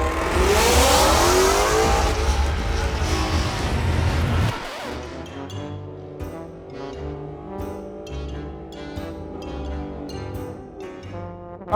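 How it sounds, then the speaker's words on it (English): A drag car launching down the strip while stuck in first gear: a loud, sustained high-revving engine scream that holds one pitch, then cuts sharply to a lower, rumbling idle with popping pulses. "sounded like the car stuck in first gear for whatever reason"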